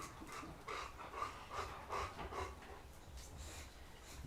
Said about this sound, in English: I hear the pitter patter of paws.